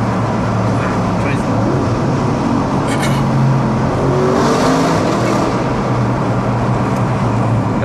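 An APR-tuned Audi RS6 C8 drives with a steady, loud engine and exhaust drone, a continuous low rumble held close and throughout, while people talk over it.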